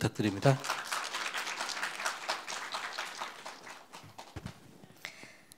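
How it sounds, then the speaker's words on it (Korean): An audience at a university innovation results-sharing session claps for the next presenter. Dense, steady applause fills the room and gradually thins toward the end, with a few louder claps near the start. "박수"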